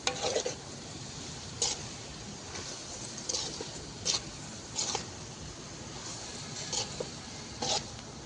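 Pulao masala with garam masala is stirred in a pot over a chulha, a soft sizzling bed broken by about eight short, sharp scrapes of a spoon against the pot at irregular intervals.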